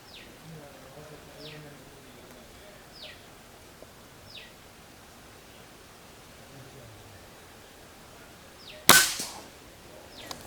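An SDB Sniper nitro piston break-barrel air rifle fires once at a 50-yard target: a single loud, sharp crack near the end, following a quiet stretch with faint bird chirps in the background.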